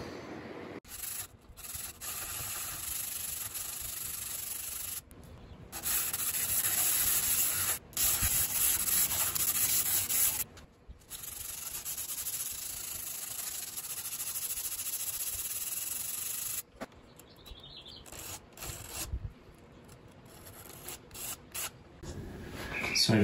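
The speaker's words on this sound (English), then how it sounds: "I'm gonna sand this into shape to match the original nut" A guitar nut is sanded into shape by hand to match the original, in steady bursts of close, scratchy rubbing with short pauses between strokes.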